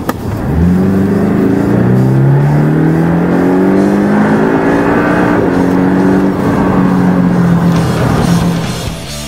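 A Porsche 718 Boxster S engine roars loudly as it accelerates hard, pitch sweeping upward through quick PDK gear changes in a sustained, close-up run.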